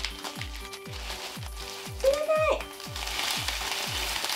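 Frozen Calpis sherbet is kneaded in a bag by hand, giving a brisk run of regular crunchy, slushy squeezes in quick rhythm with a brief squeak midway, close up and with no talking.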